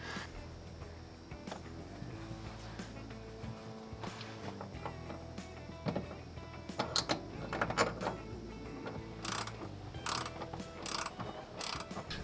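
Ratchet wrench bolting a shift linkage onto the transfer case of a Jeep Cherokee XJ, with repeated close clicking ratchet strokes and small metallic clanks, growing busier toward the end with no talking.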